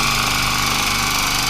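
A power saw cuts through scrap metal outdoors on a rainy day, giving a loud, steady high-pitched motor whine with a harsh grinding edge that holds without a break.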